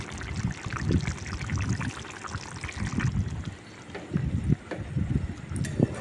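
Water pours into a pan of spicy chicken being cooked, a steady splashing trickle that runs close and fairly loud for several seconds, with small sloshing bumps and no talk.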